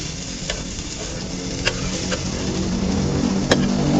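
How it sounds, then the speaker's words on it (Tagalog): A pork steak fries in a pan with a steady, dense sizzle and a few sharp pops and crackles. No one speaks over it. "Prito lang ng konti, ayos na yan."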